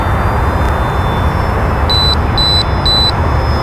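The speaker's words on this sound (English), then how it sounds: "that's my timer" An RC plane flies overhead with a steady drone while a flight timer sounds three evenly spaced electronic beeps in the latter half, with no talking.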